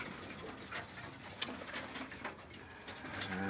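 Pigeons coo softly and repeatedly, with a few faint flutters and scratches in a quiet indoor space.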